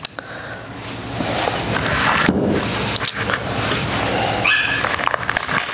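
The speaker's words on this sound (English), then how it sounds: "You can hear my dog barking." A dog shut away in another room of a home barks and whimpers, muffled and somewhat distant, in irregular bursts against a steady background hiss.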